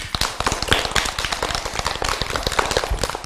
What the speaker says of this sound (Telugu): క్లాప్స్ కొట్టండి అందరూ